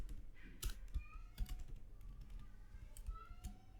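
Scattered keystrokes on a computer keyboard while typing a title into a web page, sparse clicks over a low background hum, no talking.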